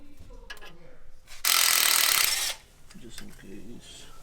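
A wrench works the bottom shock nut on a 2019-or-newer Ram 2500 or 3500 truck during a lift kit install, giving one loud, close, roughly one-second burst of rasping metallic ratcheting between quieter handling clatter.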